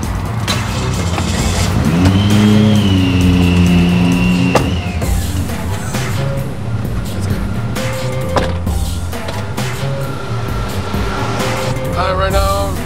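A car engine revs and the car drives off, with rising and falling engine tones, clunks and rattles, loud and close throughout.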